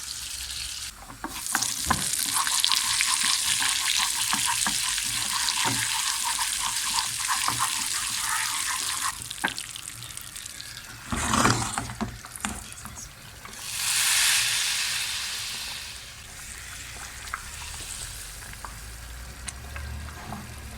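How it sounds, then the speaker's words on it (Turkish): Dried mint sizzling and crackling in hot oil in a pan for carrot and chicken soup, a steady bright frying hiss with a few stirring clatters and a brief surge partway through. "Yağ içinde nanemizi hazırladık ve yağımızı da hazırladık."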